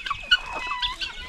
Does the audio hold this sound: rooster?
yes